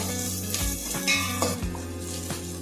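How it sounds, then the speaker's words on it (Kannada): Chopped onion frying in oil in a pan for a peanut curry: a steady sizzle with a few soft clinks and scrapes of a spoon stirring against the pan. "ಈರುಳ್ಳಿ ಸ್ವಲ್ಪ ಲೈಟ್ ಕಲರ್ ಬರೋ ತನಕ ಇದನ್ನು ಫ್ರೈ ಮಾಡಿದ್ರೆ ಸಾಕು"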